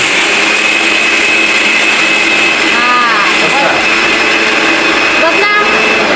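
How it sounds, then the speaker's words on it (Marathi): Kitchen mixer grinder running at full speed, a loud, steady, high whining roar that continues throughout, with faint voices in the background. "आता ते मिक्सर सोडा"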